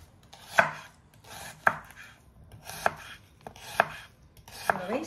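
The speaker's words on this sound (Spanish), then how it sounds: "La vamos a hacer así, a tiritas, pues creo que se le llama juliana." A knife chops vegetables into thin julienne strips on a board for spicy prawns in sauce, five sharp, evenly spaced strikes close up with no talking.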